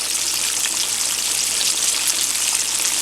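Whiting fish fries in hot oil with a loud, continuous sizzle and crackle that stays even throughout, with no voices over it.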